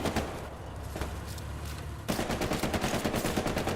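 Machine gun fire in the Hell Let Loose video game, a 49-versus-49 battle on Hill 400, with sustained rapid bursts, muffled and distant at first, then suddenly louder and sharper partway through.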